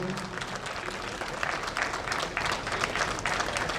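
Stadium crowd applauding to welcome the chief guest at a Republic Day celebration at Ispat Stadium, Sector 6, Rourkela; steady, dense clapping from a large outdoor audience, moderately loud and continuous throughout.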